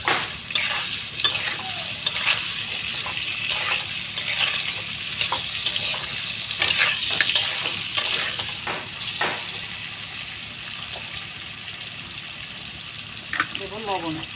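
Potato and green chilli frying in a pan for a red amaranth stem chorchori, a steady close sizzle with scraping stirs and occasional clinks running throughout, with faint voices at times in the background.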